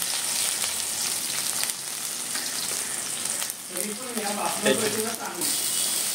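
Chillies and garlic sizzle and crackle in hot oil in a wok while making methichi bhaji, a steady frying hiss with stirring sounds, and someone talks over it.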